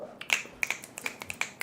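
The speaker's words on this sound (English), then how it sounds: "finger snaps." A run of crisp finger snaps, about a dozen in loose rhythm, close and dry with nothing else underneath.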